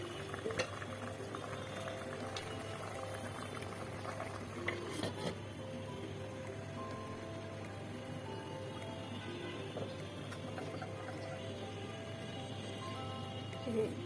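Ash gourd simmering in a covered pot on a kitchen stove, a steady low bubbling hiss with faint clinks of cookware now and then, continuous and moderately quiet with no talk.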